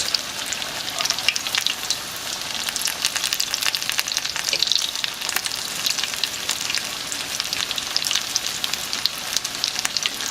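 Potato cakes, crumb-coated and made with cheese, fry in hot oil with a steady, dense crackling sizzle that holds evenly throughout, close and fairly loud, with no talking.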